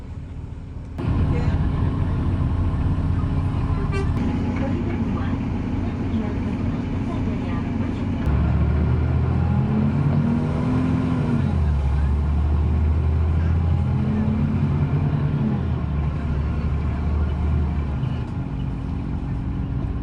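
Interior of a Suroboyo city bus riding through Surabaya, a steady loud engine and road drone with shifting low hum as the bus accelerates and slows, under a person talking.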